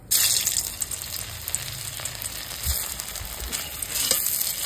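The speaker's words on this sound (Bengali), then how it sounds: "এখন আমি এটা ভেজে নিচ্ছি" Soybean muitha, hand-shaped lumps, fry in a pan with a continuous close crackling sizzle, broken by a few soft utensil knocks and brief pops, no talking.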